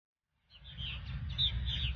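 Several birds chirp and sing softly at a distance after a brief silence, steady high twittering over a low rumbling background, no voices present.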